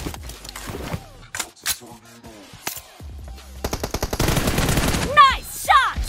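Gunfire in the mobile shooter PUBG Mobile during a team deathmatch, sharp separate shots and short rapid bursts mixed with game effects and announcer-style voices, loud and close.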